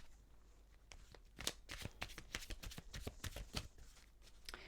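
Love oracle cards being shuffled, a dense run of crisp riffling flutters and soft slaps, close and fairly loud with no voice over them.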